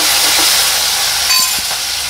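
Curry leaves spluttering in hot oil for a tempering for Gujarati dal dhokli, a loud continuous hiss with a few sharp crackles near the end.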